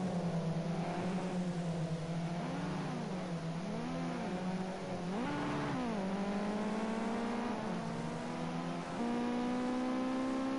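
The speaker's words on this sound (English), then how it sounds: "As all the cars come out on the track for the 20-minute qualifying session" Ginetta Junior race cars head out on track at Bathurst for a qualifying session in a racing game, with a steady engine drone and several rising and falling revs as cars pass, moderately quiet throughout.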